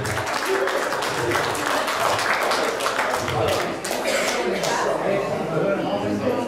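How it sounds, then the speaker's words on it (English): A crowd at a wedding claps and applauds steadily throughout, a dense wash of clapping with some voices mixed in. "I'll give a round of applause, ladies and gentlemen."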